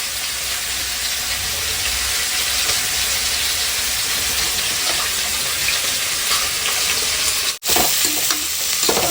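Onions sizzle loudly in hot oil with cinnamon, cloves and cardamom for a biryani, a steady dense frying hiss with a clatter of stirring, broken by a brief dropout near the end.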